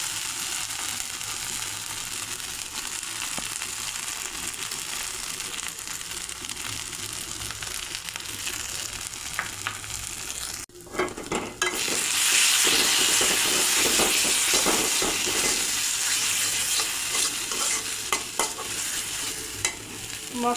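Masala spices for a country duck egg curry sizzle and fry in a pan while being stirred, a steady crackling hiss that jumps louder and brighter midway, as if more liquid hits the hot pan.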